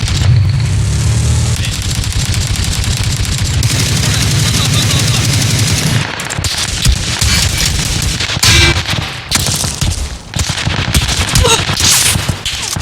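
Video game gunfire in PlayerUnknown's Battlegrounds on the Erangel map crackles in loud, dense rapid bursts with booming impacts, nearly continuous, while voices talk over the noise.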